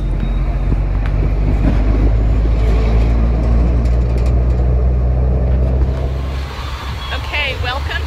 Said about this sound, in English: You gotta love the traffic.